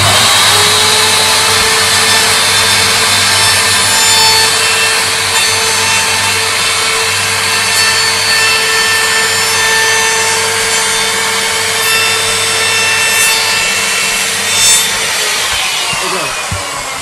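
A power tool trims a wooden Japanese bifold screen door, a loud, steady whine with a constant hum running unbroken throughout, close up, no speech.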